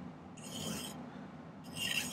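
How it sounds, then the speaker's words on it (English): A metal file rasps against a silver ring during silversmithing, two separate faint, hissing scraping strokes with a short pause between them. "I kind of like to file in some pretty intricate details with a file sometimes."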